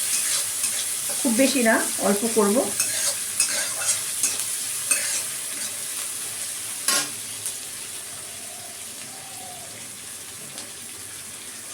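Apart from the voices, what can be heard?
chopped onion frying in a pan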